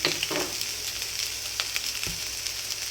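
Steady sizzling hiss of frying rice in a pan as drops of fish sauce hit it while cooking babycorn fried rice, with a few soft stirring clinks, close and continuous, no talking.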